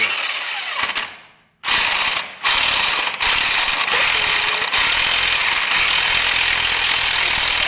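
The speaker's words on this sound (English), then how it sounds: "now we should be able to use an impact on that to get that harmonic balancer off of there" An impact wrench on a truck engine's crankshaft works the harmonic balancer loose, a loud mechanical rattle that hammers on steadily after a brief stop and restart, close up.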